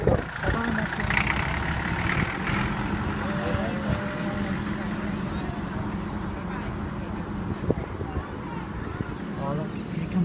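A big John Deere tractor engine rumbles steadily at an open farm day, a continuous low drone that stays present throughout, with people chatting nearby over the outdoor background.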